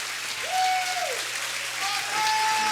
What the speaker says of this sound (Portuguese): Se é para aplaudir, aplaude direito.